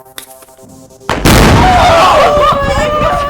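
A bomb squad detonates an explosive at an outdoor public science demonstration: after a brief quiet lead-in with faint voices, one sudden loud boom hits, followed by a long, rumbling roar of blast and debris that fills the rest.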